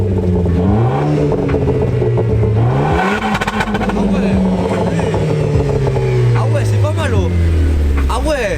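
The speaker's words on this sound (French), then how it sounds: "Non c'est que ça augmente le régime moteur." Car engine revving in sport mode with the exhaust valves open, the pitch climbing and falling through repeated loud blips up close, with people talking over it.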